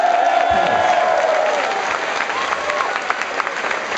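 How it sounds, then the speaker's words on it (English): A concert crowd at London's Koko applauding the opening act at a show, loud sustained clapping mixed with some cheering, steady for the whole stretch with a faint tone lingering underneath. "Let's have a big round of applause for the opening act, everybody"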